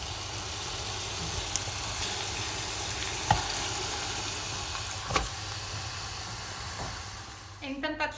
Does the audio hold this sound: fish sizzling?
yes